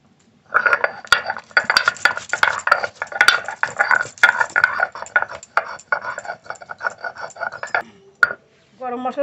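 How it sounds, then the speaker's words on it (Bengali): Whole garam masala spices are ground into a paste for a fish curry, producing close, continuous rhythmic scraping and grinding strokes with small clinks, which stop abruptly before a few brief knocks at the end. "গোটা গরম মশলা মাছের ঝোলের জন্য বেটে নেব।"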